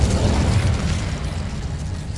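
Incendio fire spell cast in Hogwarts Legacy, a loud, sustained roaring blast heavy in low rumble that fades slightly over a couple of seconds, with no voices.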